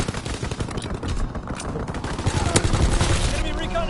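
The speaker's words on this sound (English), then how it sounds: "Strafing the target." Aircraft strafing runs in Call of Duty WW2, rapid bursts of machine-gun fire and impacts layered over battlefield noise, loud and dense, with a voice heard faintly in the mix.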